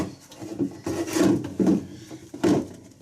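A freezer drawer being opened and closed while packing frozen food, giving several close wooden-sounding slides and knocks at an uneven pace, with no talking.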